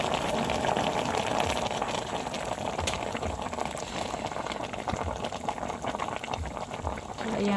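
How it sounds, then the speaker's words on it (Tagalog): Cassava leaves in coconut milk boil in a pot, a steady, close, continuous bubbling and gurgling that runs throughout. "Mausok nga laang po at kulong-kulo po siya."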